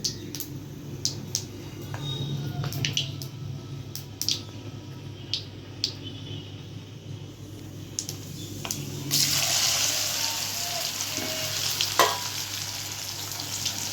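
Mustard seeds crackle and pop in hot oil, then asafoetida is added, with scattered pops and stirring clicks; the sizzle swells sharply louder and stays loud to the end.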